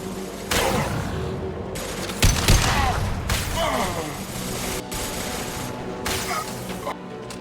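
Mass Effect 2 combat gunfire, scattered bursts and sharp impacts mixed with crashes and a low rumble, moderately loud, with short pauses between volleys.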